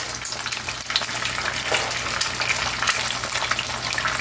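An egg frying in a pan inside onion rings gives off a loud, dense, steady sizzle that crackles continuously at close range, with no speech.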